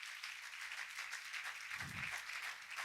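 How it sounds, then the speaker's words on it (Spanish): A church congregation applauds during a sermon, a soft, even wash of clapping heard from a distance, with a brief low thump partway through. "¿Cuánto le dan un fuerte aplauso a ese Dios maravilloso?"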